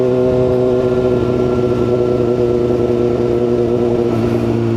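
A motorcycle engine drones steadily through its muffler while riding on a road in the Philippines, a continuous loud mid-pitched hum with a constant throttle and no speech.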